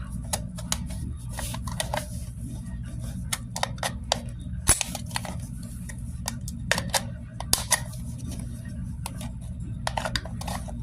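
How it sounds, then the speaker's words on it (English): Sharp, irregular metallic snips and crunches as scissors cut through a thin aluminum can, close up, over a steady low hum. "Obviously we're damaging the can a little bit cutting it."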